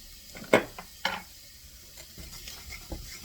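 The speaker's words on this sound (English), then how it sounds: "Stir that around while it's on the heat." A spoon stirs paprika into hot cheese, bacon and broccoli soup in a pot. Two quick scrapes stand out over a soft, steady background of low stirring and faint bubbling.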